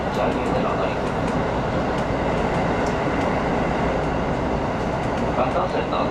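A Sanyo Main Line train runs between Kakogawa and Himeji, heard from the cab: a steady dense rumble of wheels on rails with faint clicking over the joints, continuous and close throughout.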